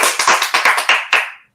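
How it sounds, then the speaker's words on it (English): A handful of sharp, close hand claps, about seven in quick uneven succession, then silence; a small sparse clap rather than a crowd. "where's the applause?"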